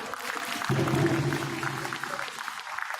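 Attendees at a national conference in Edo State break into applause, a steady roomful of clapping that swells slightly early on, with a low humming tone running beneath it for a while.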